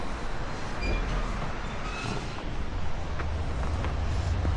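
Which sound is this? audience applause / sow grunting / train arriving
train arriving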